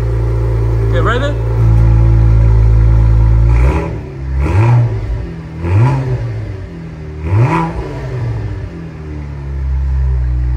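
2023 Cadillac CT4-V Blackwing engine blips through the muffler: one rev, then a steady rumble, then three sharp rising revs in quick succession, loud and close, settling back to idle.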